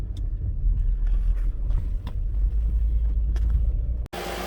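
A 2011 Nissan Quest minivan's engine runs as it is driven into a repair shop, a steady low rumble throughout that cuts off briefly near the end.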